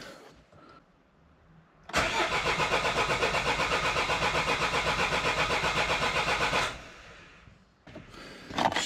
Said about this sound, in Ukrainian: Зараз перегріємо і перевіримо, як робить двигун.